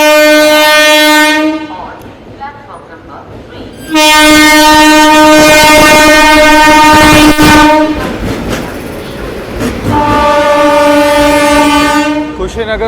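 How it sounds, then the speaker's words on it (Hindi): The Kushinagar Superfast Express, hauled by a WAP-7 electric locomotive, sounds a loud horn in long blasts as it passes slowly through a station, the horn recurring three times over heavy rail rumble and clatter. "Kushinagar superfast express"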